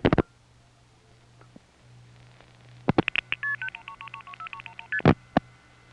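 Telephone call diverter on a step-by-step exchange line in Belhaven, North Carolina, 1977, dialing out: a quick burst of clicks, then a low hum, more clicks, and a rapid run of tone pairs ending in a sharp click, with no voices.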